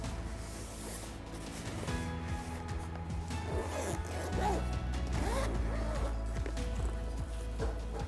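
The zipper of a YUWEL CPAP machine's carrying case is pulled open in a few short rasping strokes, close up, with handling rustle and soft knocks over a steady room hum.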